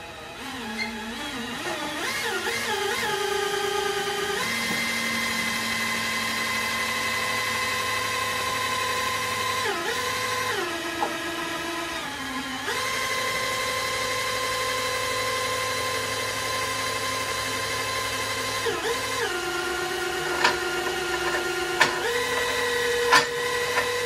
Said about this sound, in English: You can hear it pumping fuel